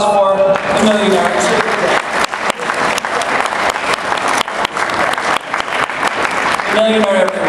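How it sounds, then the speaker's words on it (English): Audience at the Tiki Oasis event breaks into a sustained round of applause, dense clapping filling the room throughout with crowd cheers mixed in and a voice briefly heard near the start and end. "A round of applause for the millionaire."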